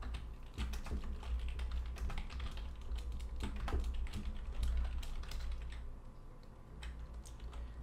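Steady, rapid keystrokes on a computer keyboard, close and clear, with no voices.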